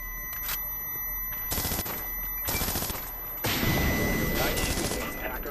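Gunfire in the multiplayer video game Splinter Cell Blacklist, Spies vs Mercs mode: several loud bursts of rapid automatic shots separated by short pauses, close and sharp, with a faint electronic tone running underneath.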